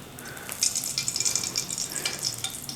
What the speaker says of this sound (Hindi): तो फिर बाकी का जो गोंद बचा हुआ है वो फिर हम इसको थोड़ा थोड़ा करके फिर ये इसको भूनेंगे